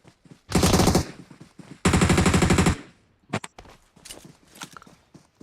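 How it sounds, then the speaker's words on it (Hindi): Video game shooter gunfire: two long, loud automatic bursts back to back, followed by several scattered single shots and short cracks, close and sharp, with little else around them. "सामने से फायर आया"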